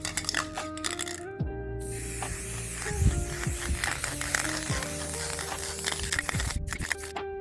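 Varnish sprays from a can onto a large painting in hissing bursts over steady background music, with small clattering sounds mixed in.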